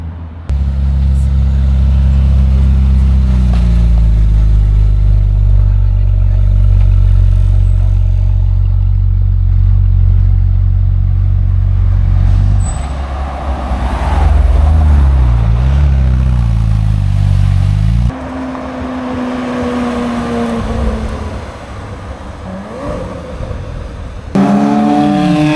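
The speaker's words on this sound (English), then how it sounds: "Oh, some real Ferraris are showing up now, 458." Several Ferrari 458 V8 supercars pass on a Tokyo street, their loud engine roar sweeping close by, then easing off before another car rises briefly near the end over steady traffic noise.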